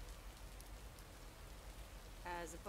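Steady, soft rain falls in a video game, a constant quiet patter with a brief brighter tonal blip near the end.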